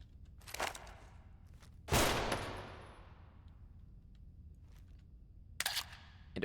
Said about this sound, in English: Shoot that oil can.